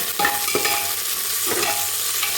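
Chopped onions fry in ghee for ghee rice and are stirred, a sizzle with scraping spoon strokes against the pan, close up, with no voices.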